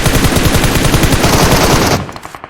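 Loud automatic gunfire from a PUBG Mobile match rattles in a fast, even stream of close shots, then drops to a few fainter spaced shots at the end.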